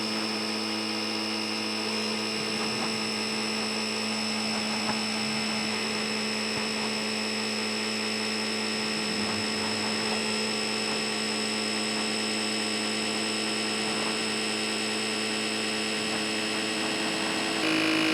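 The inflator compressor of a DeWalt DXAEPS14 jump starter runs continuously close by, a steady, fairly quiet electric hum and drone that barely changes over the whole stretch.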